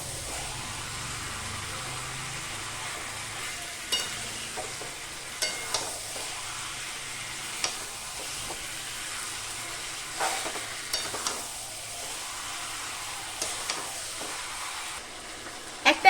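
Mutton pieces frying in a pan for a Bengali mutton curry, with a steady close sizzle, scattered utensil scrapes and clinks from stirring, and a few sharper knocks near the end.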